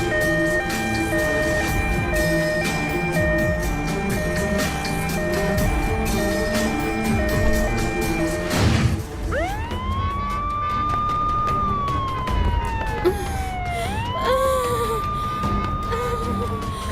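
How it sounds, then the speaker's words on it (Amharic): A police car siren wails in rising and falling sweeps through dense city traffic, loud and close, emerging over a busy backdrop of engines and street noise in a drama scene. "አንድ የፖሊስ መኪና መንገዱን የሚከፍትልሽ።"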